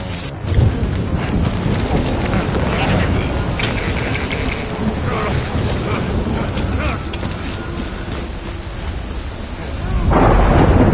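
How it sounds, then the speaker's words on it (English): Heavy rain pours steadily in the game Death Stranding, with rolling rumbles of thunder underneath, a dense continuous downpour that swells louder toward the end. "Good thing it was raining."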